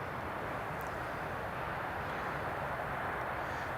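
A Lufthansa Boeing 747 jet airliner gives a steady, broad roar that holds evenly throughout, heard at a distance in windy conditions at an airport, with no talk.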